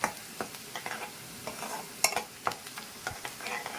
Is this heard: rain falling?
no